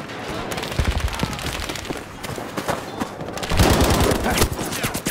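Gunfire in the video game Battlefield 5, set in the assault on Narvik: dense, continuous bursts of automatic rifle and machine-gun fire, loud and close, with rapid overlapping shots and occasional heavier thumps throughout.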